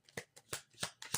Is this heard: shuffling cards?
yes